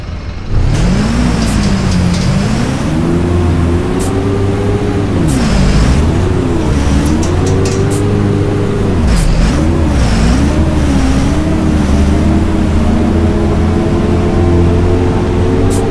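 A Caio Apache Vip IV bus on a Mercedes-Benz OF-1721 chassis, its diesel engine running loudly and close, with a steady low drone that rises and falls through several revs, with no talking.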